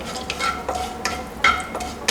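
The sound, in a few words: whole spices frying in hot ghee and oil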